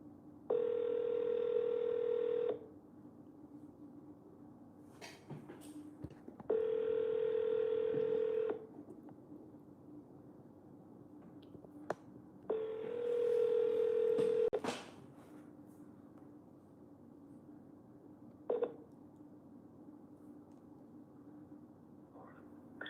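Phone tones on an outgoing sales call: three long tones of about two seconds each, separated by quiet gaps, then a short beep near the end over faint background hiss.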